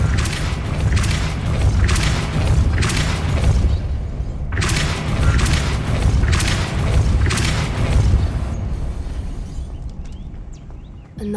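In the Hogwarts Legacy video game, a Depulso spell repeatedly blasts at an obstacle, producing a series of heavy, booming bursts in rhythmic waves, loud and close, that cut off into quieter mechanical clicks at the end.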